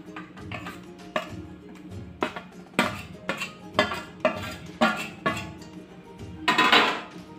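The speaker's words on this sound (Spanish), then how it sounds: "ahora voy a mezclar todos los ingredientes" Cassava dough is being mixed in a bowl with a utensil, giving irregular knocks and scrapes against the dish, close and moderately loud, ending in a brief rougher scraping stir.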